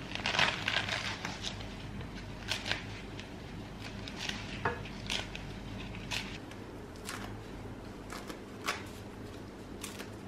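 Bread is cut before frying for Egyptian meat fatta: quiet, crisp knife strokes land in a loose, irregular series of faint crunches and taps against a soft room hum.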